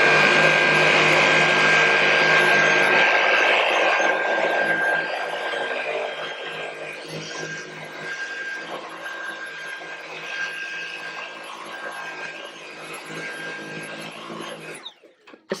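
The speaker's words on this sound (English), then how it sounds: "I'm going to go ahead and just kind of show you vacuuming as far as what it looks like." A Dyson V8 cordless vacuum cleaner running, a steady loud whine and rushing airflow that eases to a lower, softer drone partway through before cutting off near the end.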